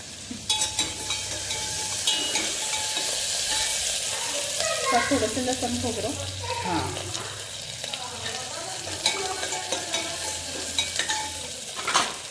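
Tempering spices, mustard seeds, cumin and turmeric, fry in hot oil for misal pav, a steady close sizzle with stirring clatter throughout and faint voices at times.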